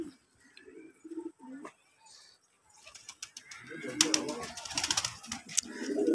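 Ambarsara pigeons in a loft give soft, low coos, mixed with some bird chatter and wing rustling, while someone talks nearby.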